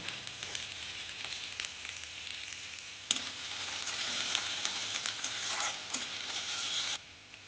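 Garlic cloves, chopped onion and chilli sizzle in hot mustard oil, a steady dense crackle with scattered sharper pops, fairly close and continuous, dropping off abruptly near the end.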